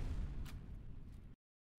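A grenade blast in water in the game F.E.A.R., a dense low rumbling burst that holds loud for over a second and then cuts off abruptly to silence.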